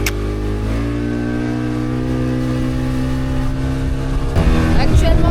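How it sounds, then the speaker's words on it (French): A fast boat's engine drones loud and steady with a strong harmonic whine, rising slightly in pitch, then a sudden shift and surge near the end as the hull pushes on, with no speech over it. "Actuellement dans le bateau, il va super vite."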